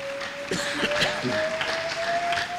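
A church congregation applauding during a service, with a brief burst of clapping over a steady sustained organ or keyboard tone, fairly close and full.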